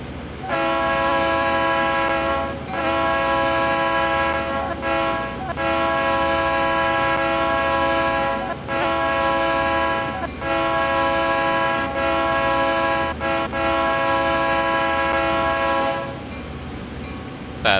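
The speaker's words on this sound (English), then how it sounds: "the engineers use this very distinct horn sequence" A locomotive horn from the Surfliner run in the Train Sim World 2 game, heard as a steady, loud sustained chord broken by a few short gaps, with a long unbroken stretch before a brief pause at the end.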